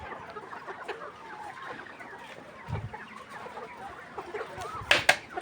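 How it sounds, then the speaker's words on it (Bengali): Farm chickens peck at feed and cluck softly and continuously in a poultry shed, with a denser burst of clucking and louder calls near the end. "এখন দেখেন এই মুরগিগুলো খাবার খাচ্ছে"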